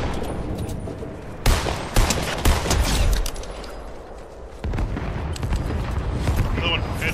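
Loud bursts of gunfire from a video game battle, with several sharp shots and rapid volleys crowding together over a few seconds amid busy game noise.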